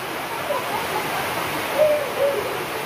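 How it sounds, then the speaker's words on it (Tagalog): Steady rain falls as a continuous broadband hiss, moderately loud and even throughout, with a few faint higher tones rising briefly above it. "Umuulan kasi."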